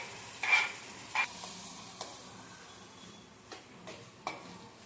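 Chopped tomatoes frying in a pan for prawn curry, a quiet sizzle broken by several sharp spatula scrapes and taps spaced unevenly.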